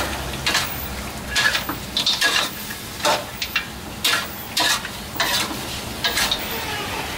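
Ingredients for braised pork ribs stir-fried in a pan, a close sizzle with rhythmic bursts of spatula scraping and tossing about once a second.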